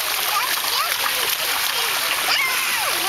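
Children jumping in a creek make continuous loud splashing and churning water noise close by, while high children's voices call out over it.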